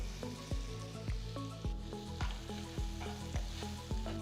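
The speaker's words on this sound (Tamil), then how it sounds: "பழம் நெய்யில் கொஞ்சம் நல்லா வதங்கணும்." Sliced nendran banana fries in ghee in a pan, a steady close sizzle punctuated by regular clacks of a spatula stirring the pieces about once every half second.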